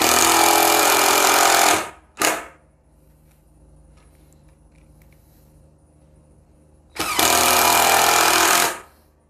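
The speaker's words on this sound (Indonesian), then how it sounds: "Sangat mudah menyekrup dengan menggunakan impact driver Molar 12 volt ini." A Mollar 12-volt cordless impact driver drives a 5 cm screw, making loud rapid hammering rattles: a burst of about two seconds, a short blip, a quiet gap, then another burst of nearly two seconds, all close.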